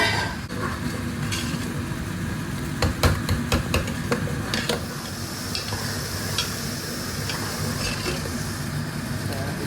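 Onion paste frying in oil for an Indian tadka, a soft, steady sizzle with occasional stirring clatter and spoon knocks against the pan, close and fairly quiet.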